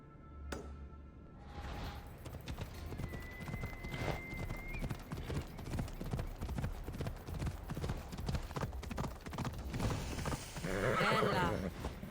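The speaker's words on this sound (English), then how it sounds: "I need to take this horse either to Adonis or to the stable boy." Horse hooves from Assassin's Creed Odyssey clip-clop in a steady, even rhythm throughout, with a brief whinny near the start and faint game sounds around them.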